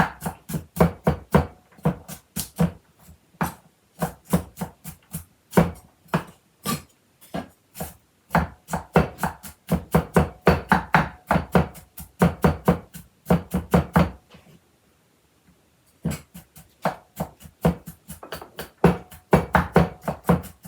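Garlic gets smashed and minced with a knife on a cutting board in fast, close, rhythmic chopping bursts that stop for a short silent gap and then start again.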